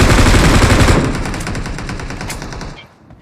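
Rapid automatic gunfire in a video game shooter rattles loud and close in a dense burst, then thins into spaced shots before fading.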